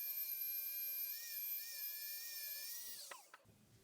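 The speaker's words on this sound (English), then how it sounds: "Continue polishing until the blade shines like new." A small high-pitched power tool whines steadily while polishing a hair clipper blade with compound, its pitch wavering slightly before it cuts off with a couple of clicks.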